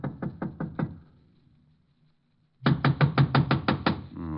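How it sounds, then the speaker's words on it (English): A fist raps on a door in two sharp bursts of about five knocks each, separated by a short pause, close and loud in a quiet room. "I'll give it a knock."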